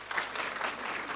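An audience at a women in media panel event applauds, a brief, steady wash of many hands clapping at moderate distance, with no voices on top.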